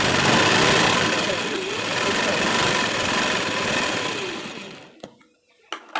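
A sewing machine runs continuously while stitching a blouse, a close, loud, steady whir that winds down near the end, followed by a few sharp clicks.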